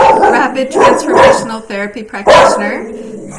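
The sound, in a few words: dog barking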